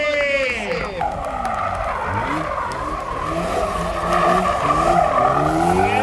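Tires screech and skid loudly as a car spins during a gymkhana run, engine roaring throughout, with a voice talking over the noise.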